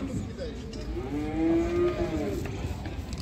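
A single long, tonal moo from a calf at a livestock market rises and falls over a low background murmur of the crowded bazaar.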